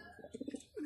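Racing pigeons coo in a quick run of soft, low throaty notes, close and fairly quiet, with a faint voice in the background.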